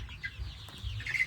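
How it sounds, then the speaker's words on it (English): Young layer chicks in a poultry farm house peep and cheep continuously as a flock, with the high chirping close and steady throughout and no voices. "So guys, here are my chicks."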